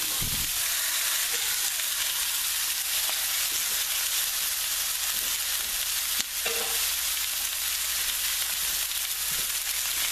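Carrots, onions, garlic, tomatoes and peppers cooking down in a pan for Swiss steak, a steady close sizzle and hiss with no talking.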